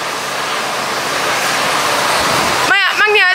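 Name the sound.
wind outdoors at a petrol station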